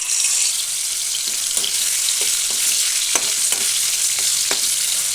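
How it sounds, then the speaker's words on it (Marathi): Jackfruit pieces frying in hot oil, a strong continuous sizzle with a series of sharp spoon or spatula taps and scrapes against the pan. "आपण याच्यामध्ये फणस थोडंसं तळून"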